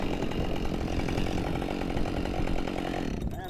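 A Husqvarna chainsaw fitted with a 28-inch bar cuts through a large storm-damaged tree, its engine roaring loud and steady at close range with no letup, then easing slightly in the final moments.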